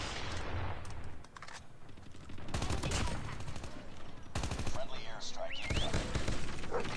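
Bursts of assault-rifle fire in the mobile shooter COD Mobile, an AK117 rattling off rapid shots, with dense repeated volleys up close over game noise and voices.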